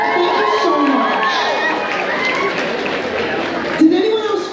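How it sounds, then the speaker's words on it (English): An audience cheers and shouts at a cosplay contest, a loud, sustained crowd roar with excited voices rising and falling throughout, and a couple of louder whoops standing out. "Give yourself a round of applause."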